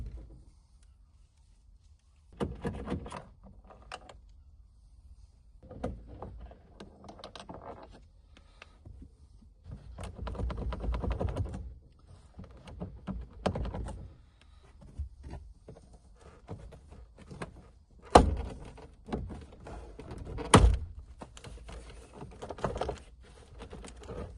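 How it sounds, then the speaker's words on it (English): Trim panel coming off the door of a high-mileage 1.9 TDI VW Bora, with scattered plastic clicks, taps and rustles in irregular bursts, a few sharp snaps standing out, no talking. "And just like that, the door card is off."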